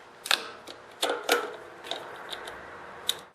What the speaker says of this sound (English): Now hold the ignition module and tighten up the bolts.